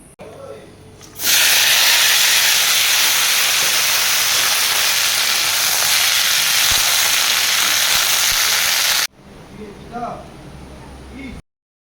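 Chopped cumin and chilli dropped into a hot pan give a sudden, loud, steady sizzle that stops abruptly after several seconds; faint household sounds follow.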